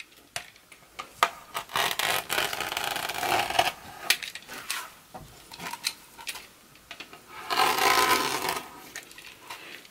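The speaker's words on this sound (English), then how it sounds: "cut the deco mesh, both colors, into 8-inch long pieces" Deco mesh in two colors being cut into 8-inch pieces for a heart-shaped wreath, heard as intermittent close crinkly rustling, rubbing and snipping bursts with no talk.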